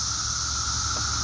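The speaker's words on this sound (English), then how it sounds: "That's the sound of the cicadas." Cicadas drone outdoors in a continuous, high buzzing chorus, steady and fairly loud, with no pauses or voices over it.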